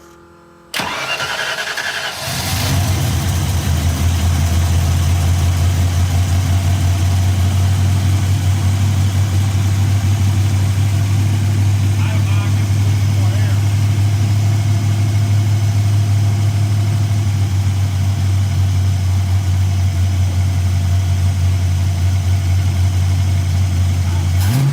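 A carbureted car engine, a cheap scrapyard Notchback, cranks briefly, catches, and settles into a loud, steady idle that runs close and unbroken to the end, with no talk.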